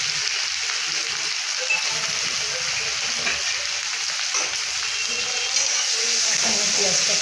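Chopped onion and crushed garlic, with cumin seeds, frying in a pan. A dense, even sizzle runs steadily throughout, loud and close.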